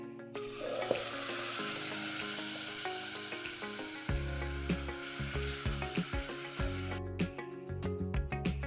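Boiled toor dal is tipped into a hot tempering of hing, curry leaves and red chilli for Gujarati dal, setting off a loud sizzle and frying hiss that keeps crackling while the pan is stirred, with clinking utensils near the end.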